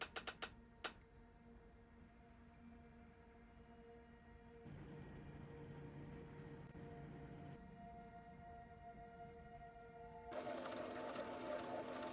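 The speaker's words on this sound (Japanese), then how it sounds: "ここからは無心でキルティング。" A sewing machine quilts a baby quilt in long, steady runs of fast, even stitching, heard close but soft, with short pauses and shifts in pitch as the speed changes.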